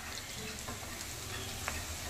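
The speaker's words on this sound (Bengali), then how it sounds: "পেঁয়াজটাকে সুন্দর একটা কালার আসা পর্যন্ত ভালো করে ভেজে নেব" Onions fried in a pan with salt for a dal of jackfruit seeds, giving a steady soft sizzle with faint crackles close by, no voices.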